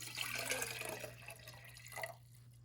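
Water trickles and splashes faintly into a container for a thermal expansion lab, a soft, steady pour over a constant low electrical hum that thins out toward the end.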